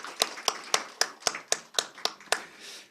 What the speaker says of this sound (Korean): 우리 하나님께 더 크게 영광의 박수 한번 쳐드리겠습니다.